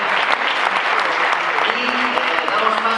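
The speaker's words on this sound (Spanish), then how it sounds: "Un fuerte aplauso para José." An audience claps loudly and continuously after a project pitch at a maker fair, dense even applause throughout, with faint voices mixed in.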